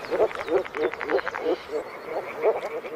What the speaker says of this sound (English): This is the signal for moor frogs to gather in their thousands at their spawning grounds